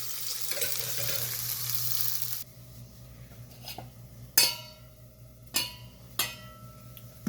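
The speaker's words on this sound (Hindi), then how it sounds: "ये तड़का जो मैंने राई का और लहसुन का और कड़ी पत्ते का डाला है" A tadka of mustard seeds, garlic and curry leaves sizzles in hot oil, a loud frying hiss that cuts off abruptly, then gives way to a few sharp clinks and pops.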